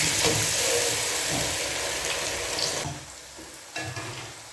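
Potato snacks frying in hot ghee, a steady broadband sizzle that holds loud for a few seconds, then drops lower with brief flare-ups as pieces are moved.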